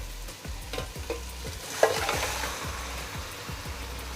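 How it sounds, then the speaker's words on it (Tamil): Chicken frying with masala for dum biryani, stirred in a rapid steady rhythm of scraping strokes over a constant sizzle, close and clear, with no talking. "நல்லா மிக்ஸ் பண்ணதுக்கப்புறம் நம்ம எடுத்து வச்சுருக்க சிக்கன் போட்டுக்கலாம்."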